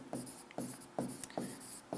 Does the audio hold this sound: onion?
no